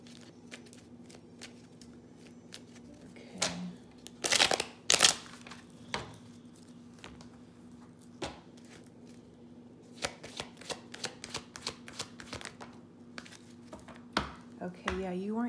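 A deck of cards shuffled for a reading, with crisp riffles and snaps in separate bursts, the loudest around the middle, then a run of quick flicks, close by against a low steady hum.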